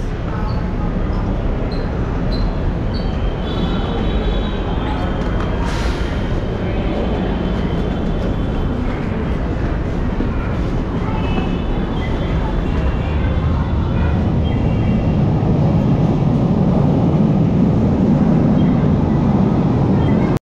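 An LRT light rail train rumbles past nearby at Monumento station with a steady roar that swells toward the end, amid ambient station noise.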